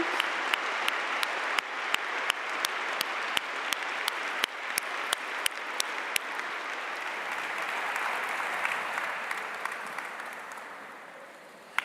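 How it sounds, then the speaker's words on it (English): Sustained applause from a meeting audience at a gathering for new saints, steady dense clapping with a few sharp louder claps standing out, fading slightly toward the end. "with the applause from the meeting for you"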